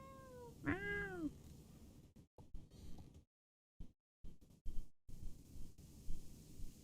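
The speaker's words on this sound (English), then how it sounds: "pet shop girl just got a whole batch of new lovely cats this morning" Cats meowing in the online horse-riding game Star Stable Online, a clear rising-and-falling meow near the start followed by quieter game ambience with brief dropouts.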